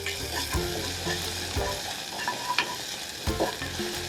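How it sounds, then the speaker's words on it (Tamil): Garlic cloves and a small piece of ginger sizzle in about two spoons of hot oil for a Tamil rasam, with a steady frying hiss broken by several sharper crackles and stirring clatter, close and fairly loud with no talking. "இதை வதக்கிக்கலாம்."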